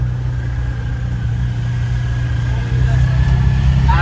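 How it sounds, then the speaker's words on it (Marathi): A car engine hums steadily from inside the cabin while driving, a constant low drone that swells slightly louder near the end. "आम्ही गाडी चालवतोय पुढे बसलोय"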